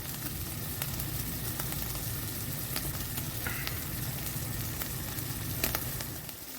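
Onions sautéing in a pan for burgers, a steady low frying sizzle with faint scattered crackles, close and quiet, no voices.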